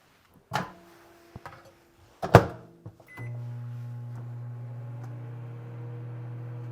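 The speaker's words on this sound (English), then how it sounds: "I'm going to throw this in the microwave for just a couple of seconds." A couple of sharp clunks and a door-like thud, a beep, then a microwave oven starts up with a steady low hum that continues evenly.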